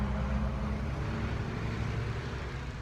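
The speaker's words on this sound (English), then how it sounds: "We're going to stop as this big welding supply truck goes by." A big welding supply truck rumbles past with a heavy, continuous low roar that stays loud and dense throughout, then eases slightly at the end.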